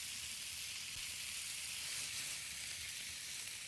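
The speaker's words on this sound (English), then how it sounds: "Then we're going to add our steamed Brussels sprouts to that. And we're going to saute them for just a minute." Steamed Brussels sprouts sauté in a pan with a constant bright hiss, faint and even, with no talk and no clear stirring strokes.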